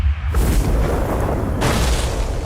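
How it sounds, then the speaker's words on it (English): A loud boom and explosion effect in a dramatized story scene, a broad rumbling burst that fills the clip and swells again near the end, with no talking over it. "Suddenly, an explosion knocked them off their feet."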